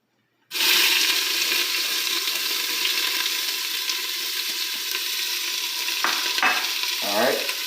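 Chopped onions sweating in about a tablespoon and a half of olive oil in a pan, a loud steady sizzle starting abruptly and continuing throughout, with a few clinks and scrapes near the end.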